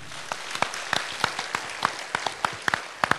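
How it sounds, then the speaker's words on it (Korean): A church congregation at an evening revival service claps briefly, sparse, sharp hand claps scattered unevenly across a few seconds at moderate distance. "우리 한번 박수 쳐줘요."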